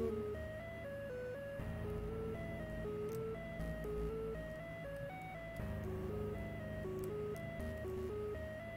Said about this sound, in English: Who thinks ear piercing like beeping noise is good music?